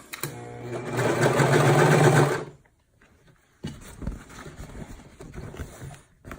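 A home sewing machine runs a fast, steady stitching burst along a seam, then stops abruptly; after a short quiet gap comes softer handling of fabric with scattered clicks and rustles.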